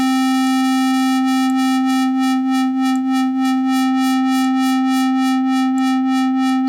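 A miniBit chiptune synth on an iPad holds a steady buzzy tone while an LFO sweeps the filter cutoff, so the sound pulses in a regular wobbling rhythm that speeds up slightly, loud and alone.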